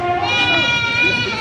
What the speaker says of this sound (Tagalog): napakadami ho ng kambing na dala ni na sir